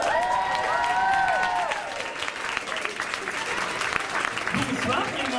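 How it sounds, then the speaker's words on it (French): Applause from an improv theatre audience at an eloquence-themed stage night, dense steady clapping with some cheering, carrying on loudly for several seconds while a voice speaks over it. "je vous demande un tonnerre d'applaudissements pour celle qui va présenter cet événement"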